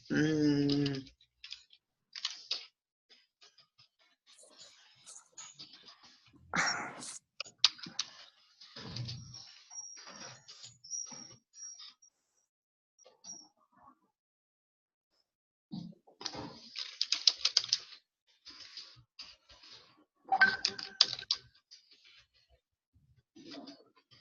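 Computer keyboard typing in soft, scattered bursts with long quiet gaps, fairly faint, alongside occasional speech.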